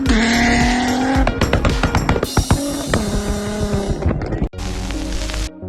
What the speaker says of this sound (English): Quite the first-person view of this insane drifting.